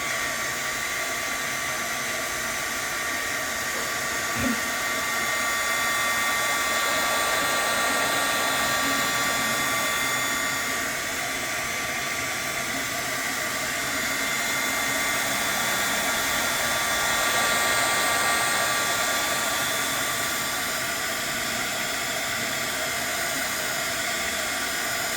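A heat tool blows hot air over the spine of an adult coloring book, a steady close whoosh like a hair dryer that runs on without a break and swells a little in loudness.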